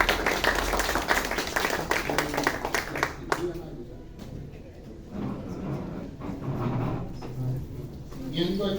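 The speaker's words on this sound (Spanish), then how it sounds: "Por favor, vamos a despedirlos con un fuerte aplauso." Audience applause closes a group panel talk at a logic forum; strong clapping for about three seconds fades into room noise with people talking and moving about.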